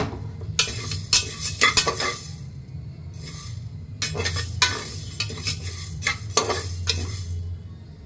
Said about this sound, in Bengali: হালকা হালকা শুনতে পাচ্ছ যে হালকা হালকা ফাটছে ডালগুলো।